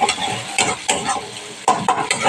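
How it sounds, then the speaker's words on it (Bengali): Onions frying in a pan for a spicy parshe fish curry with mustard and poppy seed, stirred in several bursts of scraping and clatter over a steady, close, bright sizzle. "আমার পেঁয়াজগুলো ভাজা হয়ে যাচ্ছে"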